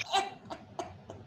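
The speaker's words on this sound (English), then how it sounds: "Sorry about the coughing." A few short coughs or bursts of laughter, fairly faint, rising from a group around a Dungeons and Dragons game table.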